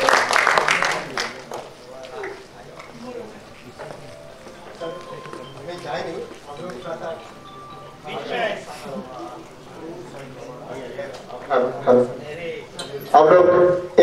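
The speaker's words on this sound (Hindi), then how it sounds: "हम चाहते हैं कल्याण जी जाना के लिए एक बार जोरदार तालियां हो जाए खूबसूरत से शो के लिए" Audience applause at a 2017 media award ceremony with Bollywood celebrities, rising in loud bursts at the start and near the end and running beneath continuous talk from the stage.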